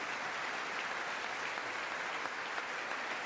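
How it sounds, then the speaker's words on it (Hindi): Lawmakers applaud during Prime Minister Modi's address to the US Congress, a steady, even ovation that sounds faint and distant throughout. "हर 5 मिनट बाद, कि वहां पर इसी तरह तालियां बज रही हैं।"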